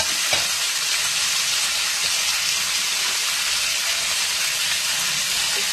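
Turmeric, cumin and coriander powder fried with kohlrabi and prawns in a pan, giving a loud, continuous, close hissing sizzle with a faint stir near the start.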